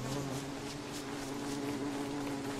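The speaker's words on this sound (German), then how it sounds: "Warum sind die Bienen so aggressiv?" Angry bees from the Don't Starve video game buzz in a steady, dense drone that holds unbroken for a couple of seconds, fairly close and alone with no voices.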